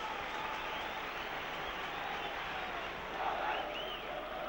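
Football crowd at Blackburn Rovers vs Swindon Town applauding after a header goes wide, a broad, steady wash of distant clapping and murmuring with a slight swell near the end.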